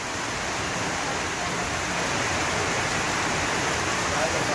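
A heavy downpour pours down around a small neighbourhood store where people are stranded, a dense, steady, loud hiss that never lets up.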